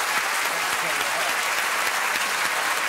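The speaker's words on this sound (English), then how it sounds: "A round of applause for Tony Martin." A studio audience on a live election-special comedy show applauds Tony Martin: loud, dense, steady clapping filling the room from start to finish.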